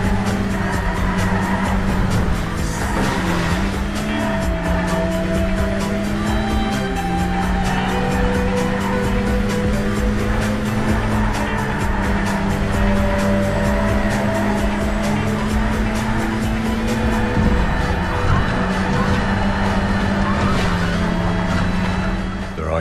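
Racing cars speeding along a track in the PS2 racing game Burnout, a steady loud engine drone with shifting pitch and occasional tire squeals, continuous throughout with a music-like backing layer.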